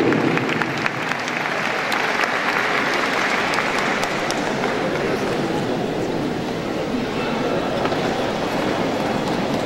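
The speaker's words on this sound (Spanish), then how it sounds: "El aplauso, señoras y señores, para esta gran deportista" Sustained audience applause fills a sports award ceremony, a dense steady clapping from a large crowd that holds for the whole stretch, with faint voices mixed in underneath.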